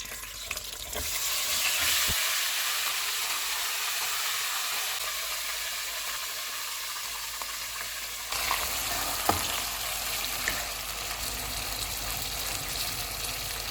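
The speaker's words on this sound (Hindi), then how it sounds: "30 सेकंड के बाद मैरिनेटेड चिकन डालेंगे।" Marinated chicken fries in hot oil with bay leaf, cinnamon and black pepper, giving a loud, continuous close sizzle with occasional stirring clatter and no speech.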